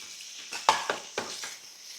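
Beef, broccoli and scrambled eggs are stir-fried for pad see ew, Thai stir-fried noodles: a low, soft sizzle broken by three or four sharp spatula scrapes and clanks close by, with no speech.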